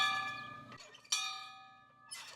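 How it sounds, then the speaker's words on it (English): A ranch dinner bell rings out at a guest ranch in Patagonia, Arizona, with bright metallic clangs struck three times, each ringing and decaying before the next, close and clear with no voices. "when you hear that bell ring, it means you're called to some excellent cuisine"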